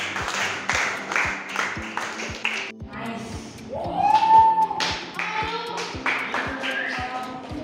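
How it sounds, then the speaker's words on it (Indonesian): A classroom of students applauding group 1, with a burst of close, rhythmic hand claps followed by a looser patter of clapping and some voices mixed in. "kasih dulu aplaus untuk kelompok 1"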